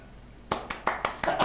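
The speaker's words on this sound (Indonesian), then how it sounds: "Tepuk tangan." A few people clap their hands in a short burst of about six separate, fairly close claps that begin after a brief quiet pause.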